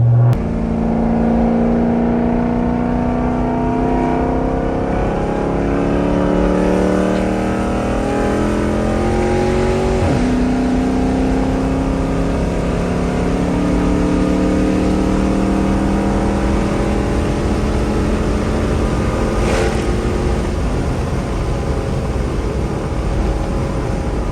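A Dodge Charger engine revs hard and roars steadily, its pitch climbing and dropping through repeated throttle blips, loud and close with no talking.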